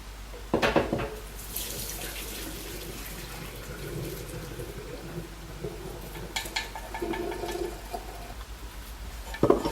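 Water runs into a sink in a steady rushing stream, fairly close, with clunks and bumps at the start and end and brief louder splashes midway.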